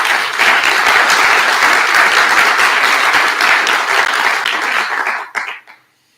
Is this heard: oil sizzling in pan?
no